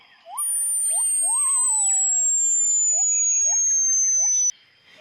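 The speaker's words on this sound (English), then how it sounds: "Instantly, the high-pitched, continuous hissing sound floods the place." Dodson's handheld box, aimed at tyrannosaurs, emits a piercing, steady high-pitched whine that slowly sinks in pitch for about four seconds over faint chirps, then cuts off abruptly.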